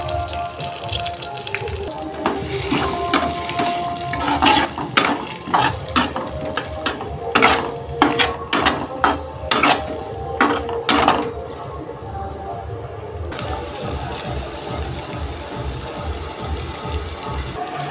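Potatoes stir-fried with spice masala in a pan, with a steady sizzle under a quick run of repeated scraping and knocking strokes of a spatula, then calmer frying toward the end.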